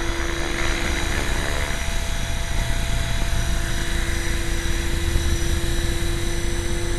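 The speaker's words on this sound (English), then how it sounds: "this is an example of nose in hovering on an HK 500 GT" An HK 500 GT RC helicopter hovers nose-in, giving a steady, loud, continuous rotor whine and buzz close by without pause, no talking.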